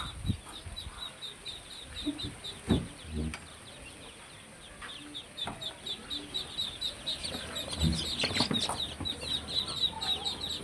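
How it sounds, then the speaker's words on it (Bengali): Many tiger chicken chicks in a coop on a home poultry farm, with dense continuous high-pitched cheeping and scattered clucks from older fowl, along with some bumps and occasional wing flaps. "এখানে সর্বমোট তিন ঘরে একশোটা টাইগার মুরগির বাচ্চা আছে"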